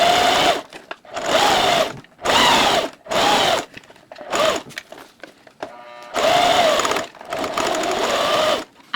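A sewing machine top-stitches through many layers of denim on a hat, running in loud short bursts with brief pauses between stitching runs, close and alone.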